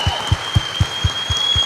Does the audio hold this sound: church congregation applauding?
yes